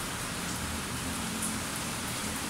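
Steady rain falls continuously, a dense even hiss of drops on a surface with no talk and no breaks.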